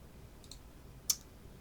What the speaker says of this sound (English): So you click OK.